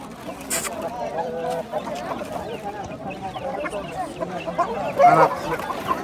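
Roosters at a fowl market cluck and call repeatedly, fairly close, with occasional louder squawks over a busy background of people talking.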